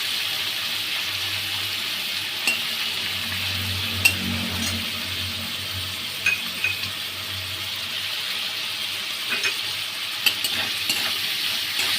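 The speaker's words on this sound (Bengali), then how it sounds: "চিংড়ি মাছটা ভাজা হোক" Shrimp seasoned with salt and turmeric fry in a pan, giving a faint, steady sizzle punctuated by occasional soft clicks of stirring, with no one speaking.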